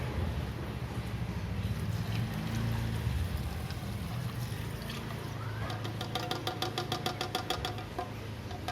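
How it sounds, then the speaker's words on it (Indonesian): The engine of a Suzuki Karimun Wagon R runs steadily with engine flush fluid added, a continuous close mechanical drone with a faint rapid ticking that picks up toward the end. "kita langsung masukkan cairan engine flushnya ke dalam mesin"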